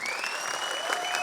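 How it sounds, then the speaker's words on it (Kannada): Audience applause at a song launch event, a steady wash of clapping from a crowd sustained throughout, fairly loud with no speech over it. "ಬರ್ಲಿ ಚಪ್ಪಾಳೆ ನಮ್ಮ ಅಣ್ಣಂಗೆ"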